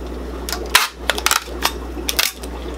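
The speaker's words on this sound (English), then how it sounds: "Have my fancy tape gun here." Tape gun sealing a cardboard shipping box, several quick tearing, ratcheting and clacking bursts close up, with no talk.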